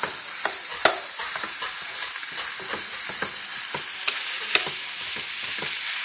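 Ground pork sizzles steadily in a hot pot with no oil added, a continuous bright frying hiss broken by occasional sharp pops and stirring scrapes, close and alone without talk.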